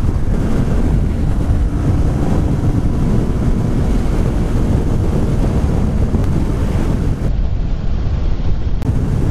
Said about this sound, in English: Wind buffeting.